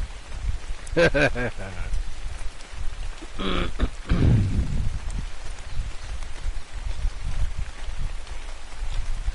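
Steady rain falls throughout a stretch of Ark: Survival Evolved gameplay, a constant hiss under brief talk and a few short bursts of game noise early on.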